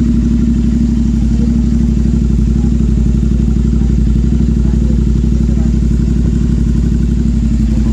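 A Royal Enfield GT650 fitted with a full-system Red Rooster exhaust, headers and a BMC air filter idles loud and close, a deep, steady thumping rumble held without pause.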